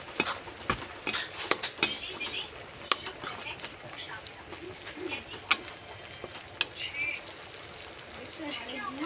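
Ginger garlic paste fries in a pan, faint sizzling broken by sharp clinks and scrapes of a stirring spoon, with birds cooing faintly in the background.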